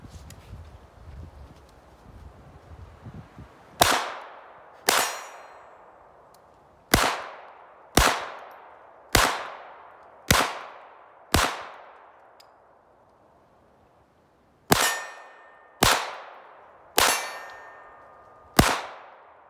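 About eleven sharp, loud handgun shots ring out in a self-defence scenario, spaced irregularly: a pair, then a quick string of five, a pause, and a final cluster of four, each with a short ringing decay.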